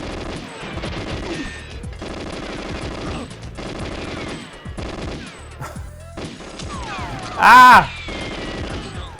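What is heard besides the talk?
gunfire in the video game Goldeneye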